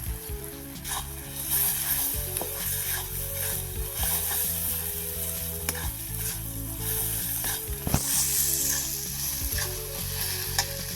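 Spices, including turmeric and meat masala, sautéing in a pan for a country chicken curry, a loud, dense, continuous sizzle with occasional stirring scrapes and clacks, no voices.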